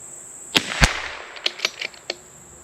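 Rifle shots from Aguila match-grade ammunition during a group of shots at an accuracy test: about six sharp, cracking reports spread over a few seconds, the first two loudest and the rest slightly softer and uneven.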